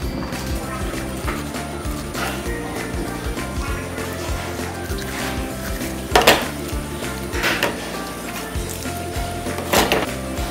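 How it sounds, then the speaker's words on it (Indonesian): A knife works through a raw chicken thigh on a board, giving scattered knocks and scraping strokes with a few sharper clacks near the end, while a voice talks. "Langkah pertama yang kita akan potong adalah bagian paha."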